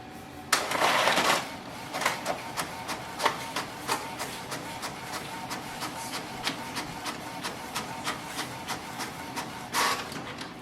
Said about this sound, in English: If I give a print command,